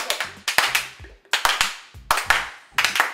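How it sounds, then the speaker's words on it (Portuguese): Bursts of close hand clapping recorded during a basketball broadcast segment, several short groups of sharp claps separated by brief silences, loud and crisp with no talk over them. "Então vamos dar um aplauso."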